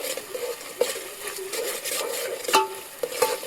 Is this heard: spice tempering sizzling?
yes